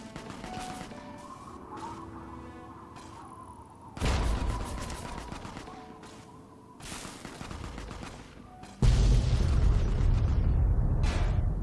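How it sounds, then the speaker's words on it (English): Flares fire off in a video game with sudden loud bursts, several sharp cracking blasts separated by quieter stretches, the last one a sustained roaring whoosh that carries to the end. "what is shooting off those flares?"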